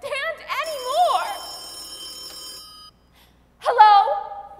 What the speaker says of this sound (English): Stop ringing, will you?